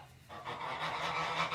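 Geese honking on a farm with eggs under them, a group of nasal honks starting after a brief quieter moment, then repeating steadily at close range.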